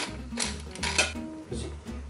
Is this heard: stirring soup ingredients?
yes